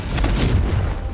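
Confringo blasting spell in the Hogwarts Legacy game, a short, dense, low booming explosion with rumbling spread through the whole moment, close and fairly loud.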